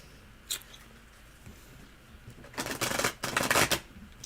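Tarot cards are shuffled up close: one quick flick, then a dense run of crisp papery riffling and fluttering snaps that builds over the last second and a half.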